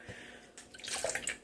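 Almond milk is poured into a blender, a quiet start that builds into a splashing, gurgling stream over the last second with no talk.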